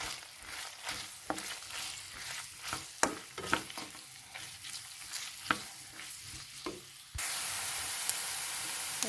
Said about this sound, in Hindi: अब हमने यहाँ पे प्याज चॉप किया वो डालना है।